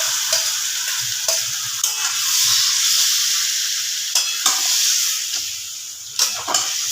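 Marinated chicken sizzling in a pan of fried onions, a steady close frying hiss with stirring scrapes, brief louder bursts through the seven seconds and no talk.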